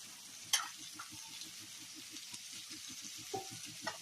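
Raw mango pieces with a pinch of garam masala in a frying pan for Khandeshi-style lunji, giving a steady soft sizzle with rhythmic low stirring scrapes and a sharp clink near the start.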